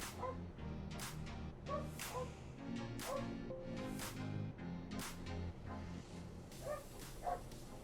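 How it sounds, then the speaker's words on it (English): A dog barks in a series of short yips and woofs, several spaced calls over a steady background bed, moderately close but not loud. "There's my dog barking."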